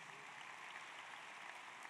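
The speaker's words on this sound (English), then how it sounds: "How about one more round of applause for our distinguished guest?" Audience applause at a high school graduation ceremony, a steady, continuous wash of many hands clapping heard from a distance.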